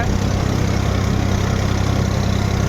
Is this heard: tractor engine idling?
yes